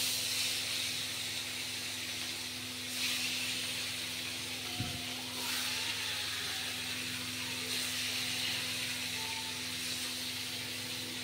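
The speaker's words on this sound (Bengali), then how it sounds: "এখানে মাছের ঝোলের ফুলকপি ভাজতে দিয়েছি" Cauliflower for fish curry fries in a pan, giving a steady, fairly faint hiss and sizzle that runs unbroken with a single brief knock partway through and no talking.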